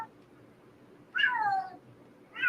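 A young male cat, about six months old, calls out for a missing kitten with two loud, drawn-out meows, the first long and falling, the second starting just as the sound ends, over a quiet room.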